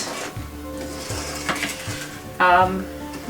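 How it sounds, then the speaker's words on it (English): A spoon stirs thick chocolate fudge mixture in a pot, scraping and clinking in slow strokes, with a low steady hum underneath and a brief louder scrape near the end. "And you're going to stir this a lot."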